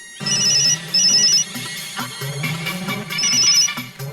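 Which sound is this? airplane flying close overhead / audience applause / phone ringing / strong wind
phone ringing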